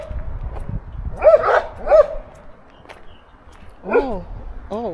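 Several dogs bark out on a road in Jamaica, sharp bursts of woofs and yips spread across the clip, some loud and close and others further off, with a faint voice low under the barking.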